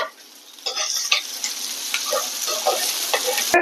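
Curry leaves and a chopped green chili are sautéed in a pan for a mutton liver fry, giving a soft, steady sizzle. A spoon scrapes and stirs with irregular clinks close by.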